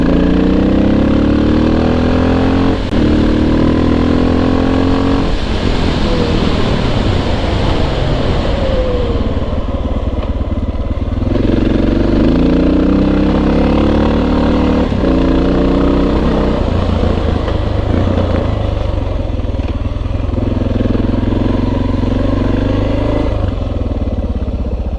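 A slightly modified Suzuki DR650 dual sport motorcycle engine runs loud and close throughout, a steady thumping single-cylinder drone with shifts in pitch as the revs rise and fall.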